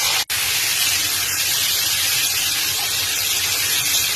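Onions and fish belly pieces fry in hot mustard oil in a kadai, giving a continuous loud sizzling hiss, broken only by a momentary cut near the start.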